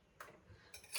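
A spoon scrapes and clinks against a pot in a home kitchen as vegetables are mixed, with a few brief, faint metallic strokes and no voices.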